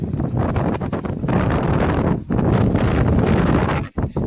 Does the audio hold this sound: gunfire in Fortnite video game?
no